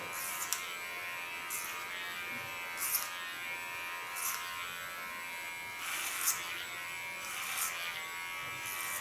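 Electric hair clippers cut hair in a graduated clipper cut. A steady, close buzz runs throughout, swelling briefly and regularly as the blades pass through the hair.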